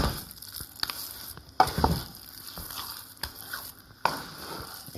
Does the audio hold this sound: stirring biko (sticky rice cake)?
yes